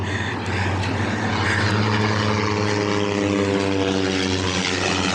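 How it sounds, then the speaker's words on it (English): A propeller airplane drones steadily overhead, its engine hum loud and continuous with a slowly shifting pitch throughout. "I got helicopters flying over, airplanes flying over."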